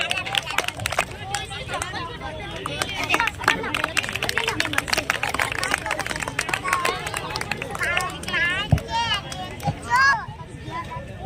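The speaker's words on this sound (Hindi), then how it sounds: "कृपया तालियां बजाते रहें।" Crowd applause at a Diwali get-together of the Valmiki community in Udaipur's Khempura Colony, as a guest is welcomed with a garland: steady, dense clapping mixed with crowd chatter and voices over a loud hall, rising in bursts near the end.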